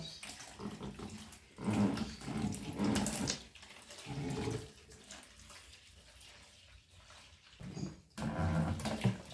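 Water drawn through a fish tank cleaning siphon into a bucket, irregular gurgling bursts and trickling flow close by, rising and falling in surges with quieter stretches between.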